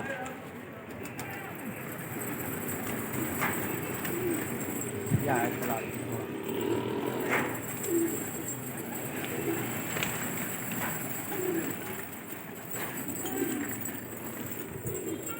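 Pigeons coo softly in a rooftop loft among a large domestic flock, repeated low burbling calls at moderate distance over steady outdoor noise, with faint traffic and no clear talk.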